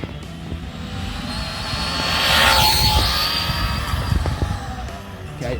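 Traxxas Bandit VXL RC car driven at full throttle, a high motor whine that rises and peaks as the car passes by mid-clip and then fades, with outdoor background noise and faint voices.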